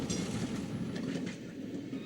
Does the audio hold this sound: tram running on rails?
yes